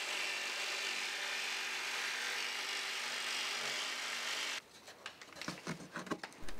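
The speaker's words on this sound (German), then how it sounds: "Der sogenannte Kusaschaum lässt sich einfach mit der Säge ausschneiden." A saw cuts foam core board for a fibreglass hull hole repair: a steady hiss gives way to close, rhythmic rasping strokes as the blade works through the foam, with no talking.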